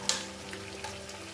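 Four spoonfuls of ginger paste hit a pan over low heat for a Bengali chicken curry, giving a soft, steady sizzle with a faint stirring scrape, heard briefly and up close.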